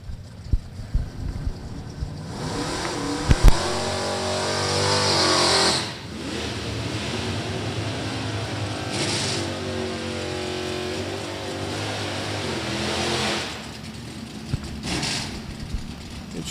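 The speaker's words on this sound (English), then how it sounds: "Interesting variation in the burnouts." Drag racing cars doing burnouts at an NHRA Division 3 event at Beech Bend Raceway Park, with engines revving in a sustained, loud, close roar that dips briefly partway through before surging again.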